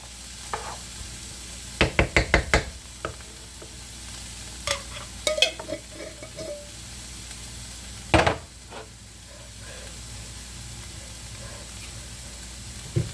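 Onions sautéing in a pan for peperonata Calabrese give a quiet, steady sizzle, broken by several sharp clusters of utensil scrapes and taps against the pan as they are stirred.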